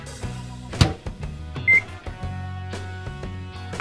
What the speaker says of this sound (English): Melt Chewy candies in a microwave.